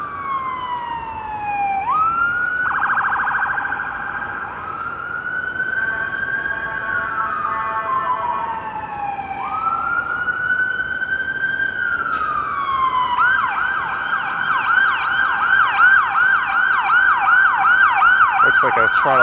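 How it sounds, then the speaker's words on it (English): A Toronto fire vehicle passes along Queen Street East downtown, its siren wailing in long rising and falling sweeps that switch to a fast yelp, growing louder as it nears, over steady street traffic. "it sounds like there's an emergency vehicle probably making its way to St."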